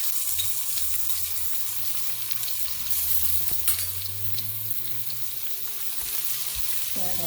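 Garlic, ginger, green chili and cumin sizzle and crackle in a hot pan. The dense frying hiss is close and continuous, with a low kitchen hum underneath and occasional stirring scrapes.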